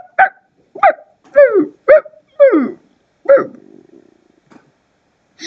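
A dog gives a series of sharp, close barks in irregular bursts, then trails off into a brief whimpering whine and falls quiet.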